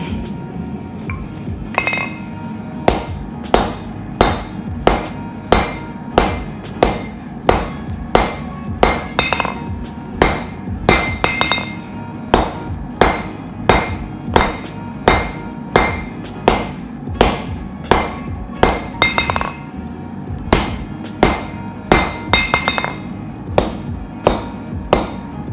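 A hammer strikes hot Damascus steel while forging a kukri blade, ringing metallic blows in a steady rhythm of repeated clusters, close and loud over a faint background hum.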